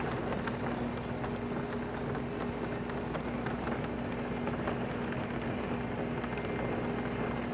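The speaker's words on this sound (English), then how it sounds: "The wind's blowing so hard, it's like the rain is just blanketing the window here." Heavy rain driven by strong wind pours against a window during a violent thunderstorm, a dense, steady roar with no letup and a faint low hum underneath.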